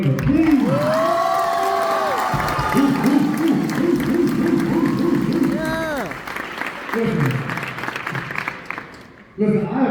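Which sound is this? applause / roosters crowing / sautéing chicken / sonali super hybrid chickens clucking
applause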